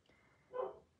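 A single faint, muffled dog bark comes from dogs in a backyard, heard at a distance through walls from indoors with no one speaking.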